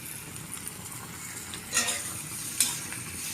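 Potatoes and onion frying in a pan while being stirred, a steady soft sizzle with two sharper scraping strokes of the spoon standing out near the end.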